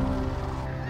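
Geese honking at a wetland, a brief, loud burst of nasal calls up close with no other sound.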